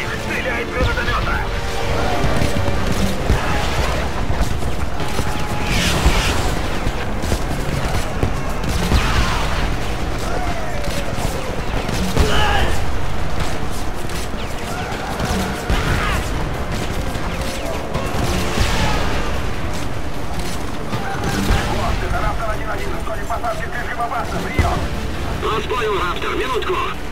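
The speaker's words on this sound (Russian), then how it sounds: "Начинаю обстрел. Убери их. Стреляй из гранатомета." Grenade launcher fire and shelling during a bridge battle in the shooter Homefront, a steady barrage of explosions and gunfire, loud and close, with radio voices talking over it.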